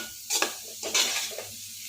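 A spinach and egg scramble is stirred in a pan over full flame, with a close sizzle under a few quick scraping strokes of the spatula; no one speaks.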